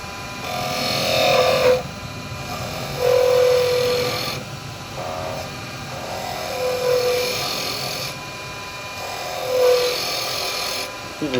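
A carbide woodturning tool cuts a wooden candlestick spinning on a lathe, making rasping, scraping bursts in uneven passes separated by short pauses.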